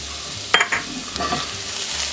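Tomato paste with pepper, chili powder and turmeric cooking in a pan, giving a soft steady sizzle with a few brief scraping stir sounds near the start and middle.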